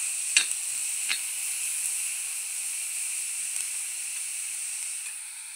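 Onion sizzling and frying in a pan for a Malvani seashell dish, a steady close hiss with a couple of sharp clinks from stirring near the start, no voices.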